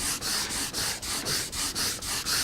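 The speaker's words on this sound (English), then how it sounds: "Take the cork, basically generates some heat because of the friction." A cork block rubbed briskly back and forth over a ski base to work in race wax, making a steady run of about ten close, dry scrubbing strokes with no voices.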